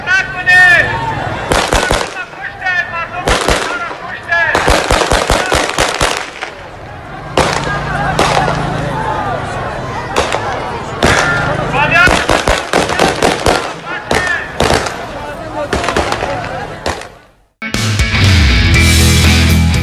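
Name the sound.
gunfire at Kabul airport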